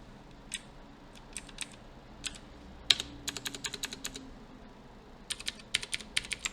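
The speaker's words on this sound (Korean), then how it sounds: "자, 작성하고 컨트롤 S 눌러서 저장할게요." Code being typed on a computer keyboard, ending with a Ctrl+S save: scattered single keystrokes, then quick runs of crisp clicks in bursts, close and fairly quiet with no talking.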